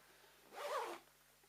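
A zipper on a bag is pulled once in a single quick zip lasting about half a second, quiet and close against a faint background hush.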